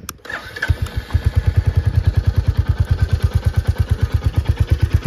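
A Royal Enfield Hunter 350 motorcycle's air-cooled 350cc engine cranks and starts, then settles into a loud, steady, rhythmic thumping idle close by.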